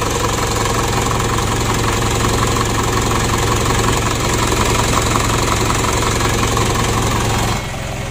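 A steady engine idles without a break, loud and close, with a constant low rumble and even mechanical ticking, then drops slightly in level near the end.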